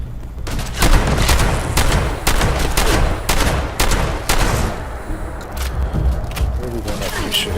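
Rapid gunfire in the video game Fallout 76, a dense, loud volley of repeated shots running almost continuously, with a voice talking over parts of it.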